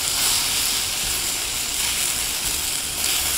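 Cucumber, yam and shiitake stir-fry in a hot pan, making a dense, steady, loud sizzle that holds without a break, with faint stirring scrapes underneath and no voices.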